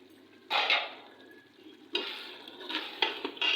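Spices and chickpeas frying in a pot, heard as bursts of sizzling and scraping stirs with quieter gaps between them, close and soft.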